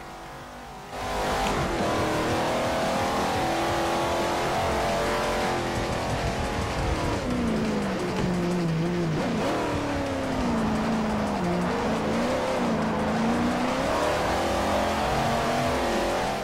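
A Ferrari race car engine in the racing game Forza Motosport 4, starting abruptly then revving hard and continuously, pitch rising and falling through gear changes and corners, loud and sustained for the full run.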